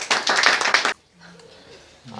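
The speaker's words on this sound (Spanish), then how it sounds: "No, vea, aplaudan, señores" A church congregation breaks into brisk, dense clapping that lasts about a second, then stops abruptly and a preacher's voice follows softly.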